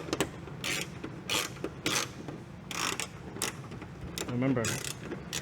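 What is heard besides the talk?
tightening fender bolt on Ford F150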